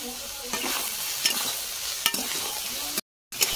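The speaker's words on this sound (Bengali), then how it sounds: "এবার তেলের মধ্যে দিয়ে দেবো" Soaked soybean chunks fry in hot oil for a Bengali soybean kalia, giving a close, steady sizzle broken by a few sharp stirring taps and one short gap of silence near the end.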